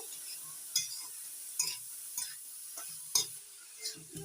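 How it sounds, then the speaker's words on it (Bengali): Grated cauliflower with salt, turmeric, ginger and green chilli sizzles softly in a pan as a spatula scrapes and stirs it in a series of separate, fairly faint strokes, with no talking. "নাড়াচাড়া করে ভালো করে ভাজা ভাজা করে নেব"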